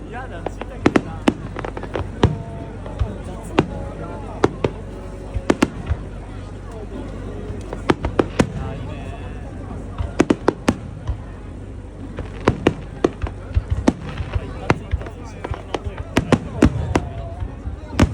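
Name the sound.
fireworks at Adachi fireworks festival, Tokyo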